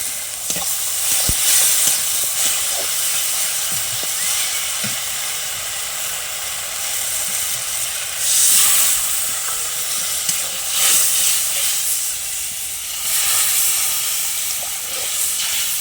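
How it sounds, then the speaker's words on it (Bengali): Curry gravy of chilli, turmeric, cumin and mustard paste boiling in a pan on a home stove, a steady close hiss and bubbling simmer with occasional clinks, continuous throughout. "দেখুন ঝোলটা কিন্তু ফুটে গেছে"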